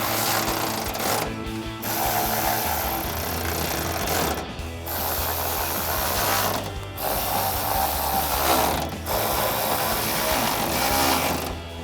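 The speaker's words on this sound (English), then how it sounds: "you can tighten those down with a 13mm socket and wrench" A ratchet and 13mm socket tighten bolts while a Tacoma truck bed cap is installed, giving a loud dense mechanical ratcheting in long bursts separated by brief pauses, close up.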